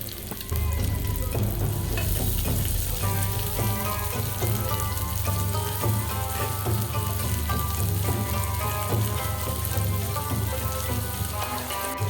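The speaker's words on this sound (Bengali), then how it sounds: "ভালো করে একটু ভেজে নেবেন" Onion, green chili and garlic fry in a pan with a steady, loud, continuous sizzle and crackle, close up and unbroken throughout, with occasional stirring clicks and no voices.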